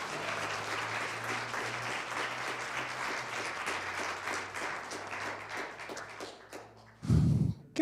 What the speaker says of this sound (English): So a round of applause for the Salmon River and the people who made it happen.